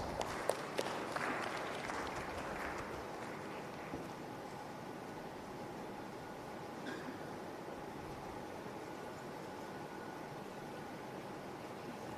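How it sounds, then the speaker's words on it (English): A conference audience applauds in a hall, a dense wash of clapping that starts a little louder and then carries on steadily at a moderate, somewhat distant level. "A round of applause, please."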